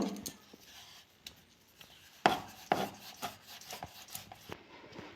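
A wooden rolling pin rolls a floured piece of maida dough for a sweet, giving soft, close rubbing and scraping strokes with a few sharper knocks, and no talk.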